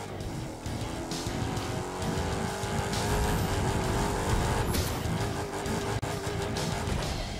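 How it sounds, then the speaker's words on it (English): A monster truck in the Monster Jam Steel Titans video game roars with a loud, sustained engine and squealing tires, the racing noise holding steady and close throughout with brief surges. "Coming up next, we've got the Jurassic Park monster truck."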